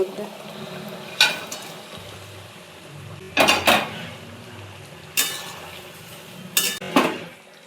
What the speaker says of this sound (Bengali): মশলা কষানো হয়ে গেছে, আমি এবার জল দিয়ে দেবো।